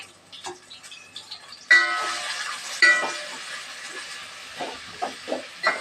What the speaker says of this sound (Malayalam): എന്നിട്ട് ഇത് നല്ലപോലെ ഒന്ന് വഴറ്റി കൊടുക്കാം